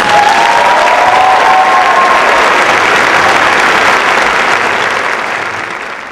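Audience applause welcoming Ms. Felicia Thomas as a speaker at the City High Class of 2011 graduation in Pittsburgh, a dense, steady clapping that fills the room and slowly fades toward the end.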